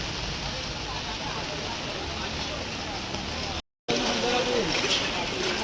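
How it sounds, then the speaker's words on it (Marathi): Steady, dense hiss of heavy monsoon rain pouring down continuously in Virar, with a brief dropout partway through; no one speaks. "पावसाचा जोर भरपूर आहे."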